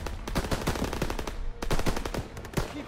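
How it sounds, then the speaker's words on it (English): Sustained machine-gun fire in the World War II shooter Call of Duty: WWII, dense overlapping bursts of automatic gunfire with sharp cracks, loud and continuous with a brief dip midway. "MGs, open fire."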